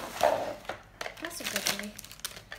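LOL Surprise toy packaging being ripped open, with close crinkling and tearing of the wrapper in irregular bursts while a person talks over it.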